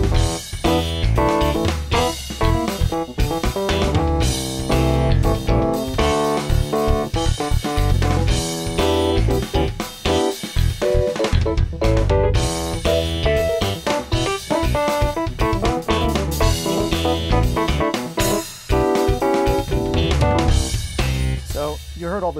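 A Korg Krome music workstation plays a busy drum track pattern with frequent fills over a full backing arrangement, loud and continuous throughout.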